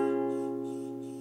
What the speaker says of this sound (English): So you're going to first need to know how to play C